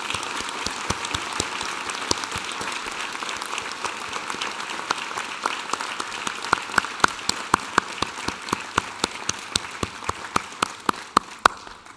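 An audience at a university graduation ceremony in Newcastle, Australia applauds the graduates, a sustained wash of many hands clapping, with distinct sharp claps standing out near the microphone.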